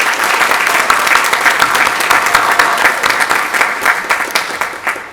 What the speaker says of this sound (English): Let's get a round of applause for them.